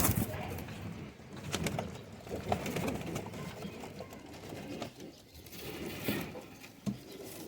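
Rampuri pigeons cooing in a busy outdoor setting, soft repeated low coos running under steady background noise and occasional rustles or wing flutters, with no clear voices.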